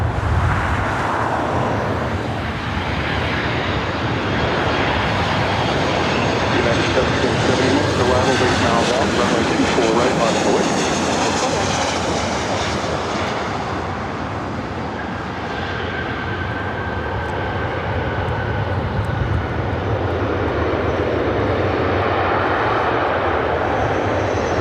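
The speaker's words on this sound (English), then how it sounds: "Flight coming in from Detroit, Michigan." A Delta airliner arriving from Detroit roars in at LAX, a loud, sustained jet engine rumble that swells and holds throughout, with a faint high whine midway.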